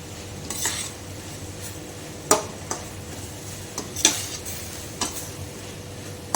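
Metal spoon scraping and clinking in a pan while prawns sukka with grated coconut is stirred, several sharp taps and scrapes at irregular moments over a faint sizzle, no talk.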